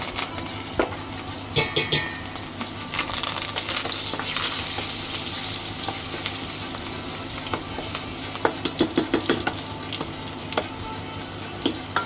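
Loud crackling sizzle of dry red chillies and curry leaves hitting hot tempering oil, with sharp spattering pops and occasional clinks of a spoon against the pan.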